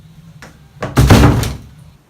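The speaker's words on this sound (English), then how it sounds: "just knocked my lotion out of the trash" A lotion bottle knocked out of a trash can lands with a loud, close thump and brief clatter, preceded by a couple of lighter knocks, with no voices.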